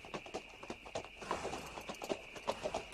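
Horses trot as a film sound effect, hooves clip-clopping in a quick, steady, overlapping rhythm at moderate distance, with no talk over them.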